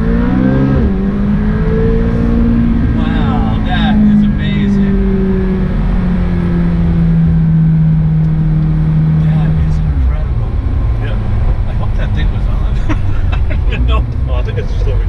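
A McLaren 720S launches hard, its loud engine revving and pulling through rising then falling tones as it accelerates, heard close from inside the car while people talk over it.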